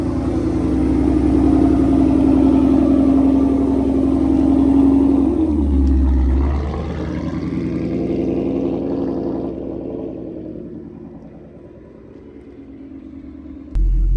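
A Ford Mustang engine idles and rumbles up close at a car dealership, a steady deep throb that shifts and gradually fades lower before a sudden loud burst at the end.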